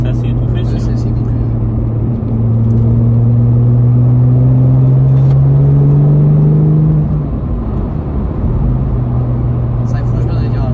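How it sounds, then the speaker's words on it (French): A Porsche 996 Turbo's engine and exhaust while driving, a steady low droning hum that rises in pitch as it accelerates, then settles, loud and close with road rumble throughout. "C'est vrai que l'échappement ça libère un petit peu quand même les turbos parce que c'est vrai que c'est assez étouffé."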